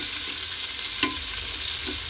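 Spices and ginger frying in a pan for a chicken curry, a steady close sizzle with a brief scrape of stirring in the middle.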